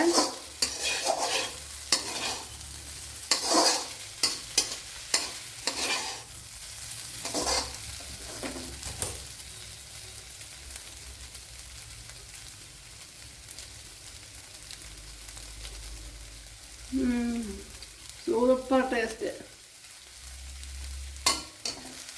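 Okra and egg stirred in a hot pan, with repeated scraping strokes of a spoon in an irregular rhythm over a low, steady sizzle, close and fairly loud, and a few brief louder scrapes later on.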